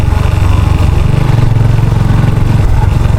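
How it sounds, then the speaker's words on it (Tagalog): A motorcycle engine and exhaust idle close by, giving a loud, steady rumble with a fast, even pulse and no talking over it. "Nakakagana pang biritin, ganda ng tambutso."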